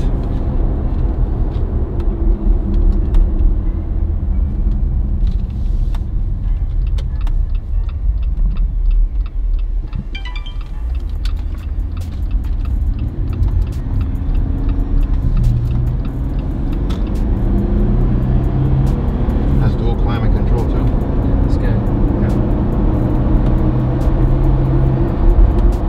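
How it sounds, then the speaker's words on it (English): Cabin sound from a moving Jeep Gladiator pickup truck: a loud, constant low engine and road rumble that swells and eases with speed, with faint ticking clicks through the middle, and no talk. "so we just got done driving the Gladiator"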